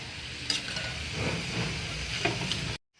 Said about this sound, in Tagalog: Haluin lang natin ulit.